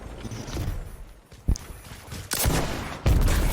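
Shotgun blasts in the video game Destiny 2, a few sharp, heavy booms spaced unevenly over a busy background of game noise, with no voices.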